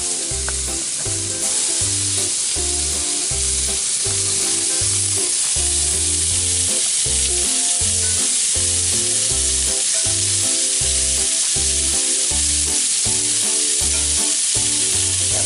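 Meat for lomo saltado sizzles steadily in a hot pan, a loud continuous frying crackle with a regular pulsing rhythm running underneath the whole time, no voices.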